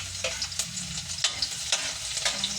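Garlic frying in a little oil in a pan, a steady close sizzle broken by periodic scraping stirs, with no one talking.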